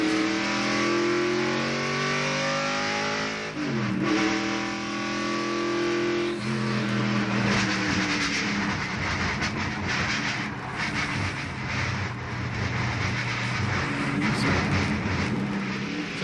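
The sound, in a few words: stock race car running after losing a wheel, onboard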